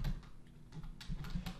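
Typing on a computer keyboard, a quick patter of soft key clicks in short uneven bursts, close and faint throughout.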